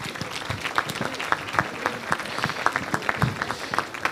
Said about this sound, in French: Il s'agit d'Olivier Nicard, que je vais vous demander d'applaudir